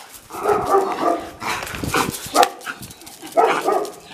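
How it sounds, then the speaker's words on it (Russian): A small house dog barks repeatedly up close in an apartment, loud yapping bursts with short pauses and a whimpering edge. "Смотрите, какая злая собака у меня"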